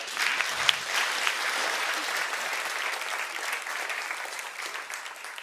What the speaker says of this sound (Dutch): nog een daverend applaus voor al onze kandidaten